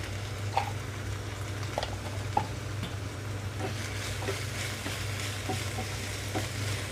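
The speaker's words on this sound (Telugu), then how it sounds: "బెండకాయ ముక్కలు చక్కగా పర్ఫెక్ట్గా ఫ్రై అయిపోయినాయి ఇంతవరకు నేను సాల్ట్ వేయలేదు కాబట్టి ఇప్పుడు సాల్ట్ వేస్తున్నాను" Okra pieces fry in a pan with a continuous close crackling sizzle, punctuated by scattered pops and stirring scrapes, under a low steady hum of the stove.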